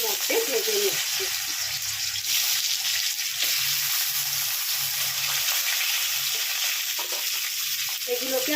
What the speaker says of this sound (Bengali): এবার আমি এর মধ্যে আগে কাঁচকলাগুলোকে একটু তেলের মধ্যে ভেজে নিচ্ছি।